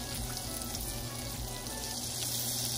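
Shrimp frying in a skillet, a faint, steady, dense sizzle and crackle that runs without pause, heard alone with no talking.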